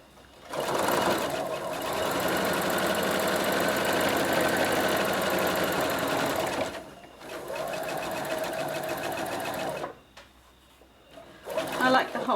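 A sewing machine stitches a simple zippered fabric pencil pouch in a long steady whir up close, pauses briefly, runs again for several seconds, then stops, followed by a few short handling noises.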